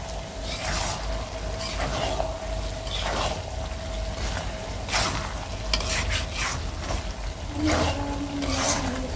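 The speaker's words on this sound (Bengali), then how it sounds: "ভুড়িটা কিন্তু অনেক ভাজা ভাজা হয়ে গেছে" Tripe fries crisp in a pan, a continuous close sizzle broken by scraping stirs and occasional clinks of a spatula against the metal.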